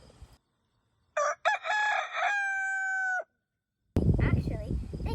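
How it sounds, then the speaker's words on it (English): A rooster on a farm gives one loud, close cock-a-doodle-doo crow lasting about two seconds, followed by brief clucking and noise. "Roosters are known for their cock-a-doodle-doos in the morning."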